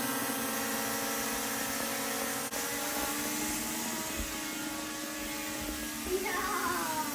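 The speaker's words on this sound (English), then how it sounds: "We are watching the drone." A cheap, small 4K quadcopter drone hovers close by with a steady, high-pitched buzz that continues the whole time, with a brief click partway through and faint background noise.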